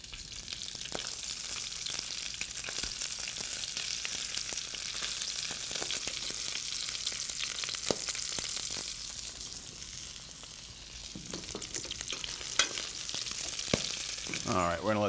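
Frog legs and crab cakes sizzle and crackle steadily in a hot frying pan, a continuous close-up fry with scattered sharp pops throughout and no talking.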